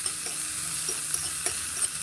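Green chillies with a pinch of salt frying in a little oil in a pan, a steady close sizzle with faint stirring taps and small pops, no voices.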